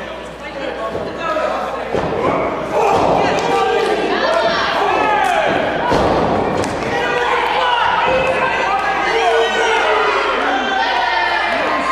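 A wrestling crowd at a stunt show roars and jeers loudly at a wrestler, with shouts, thuds from the ring and a commentator's voice woven through the steady noise.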